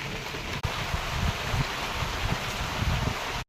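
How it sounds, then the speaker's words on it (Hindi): Dense, steady hiss of heavy rain falling hard in the hills, continuous and even, with a brief dropout near the start and no voices. "अभी अभी ना काफ़ी तेज़ बारिश आ चुकी है और ज़ोर ज़ोर से बादल भी गरज रहे हैं।"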